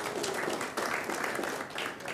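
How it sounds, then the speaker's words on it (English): Steady church congregation applause with dense, continuous clapping, fairly loud and sustained throughout with no pauses. "let's give them a round of applause"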